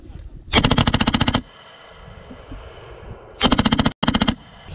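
Automatic gunfire at an outdoor shooting range: three loud, close bursts of rapid shots, the first about a second long and the later two short and back to back, separated by quieter range ambience.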